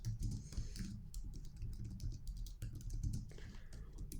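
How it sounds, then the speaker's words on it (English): Typing on a computer keyboard, with steady clicking keystrokes running continuously over a low background hum, fairly close and moderately quiet. "after we are done typing"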